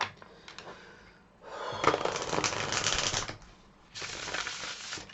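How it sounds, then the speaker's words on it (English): Playing cards are shuffled in a few separate bursts, each a quick riffling flutter of card edges close to the microphone, with short quiet gaps between them. "We'll do a few more shuffles"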